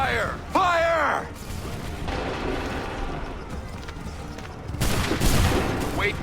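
Musket volleys roar in Assassin's Creed III Remastered, with booming massed fire rolling into a sustained crackling fusillade and echo. Shouted commands come in over the gunfire at the start and end.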